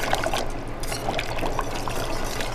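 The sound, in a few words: pouring cold liquid into hot sweet and sour sauce in pan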